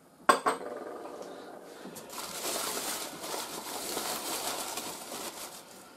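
A couple of sharp clinks at the start, then a sustained rattling of porcelain cups and dishes being handled close by.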